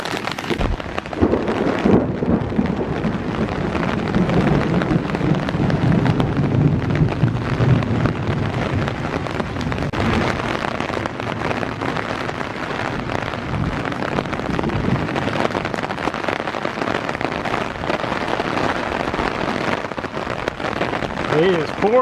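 Thunderstorm with heavy rain and gusting wind at Iroquois Park, a steady loud broadband roar of downpour buffeting the microphone throughout, low rumbling swells that may be thunder, and a voice speaking over it.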